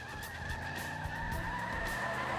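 A car turning around in a movie scene, its tyres skidding in a steady, continuous squeal over a low engine rumble, loud and close with no voices.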